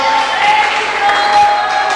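A church congregation claps and cheers together at a Sunday service, making a dense, continuous wash of applause with a sustained tone running underneath.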